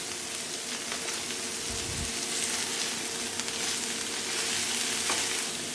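Chicken spring roll filling with spring onions being mixed, a steady rustling, sizzle-like crackle with a brief low thump partway through, close and even, no talking.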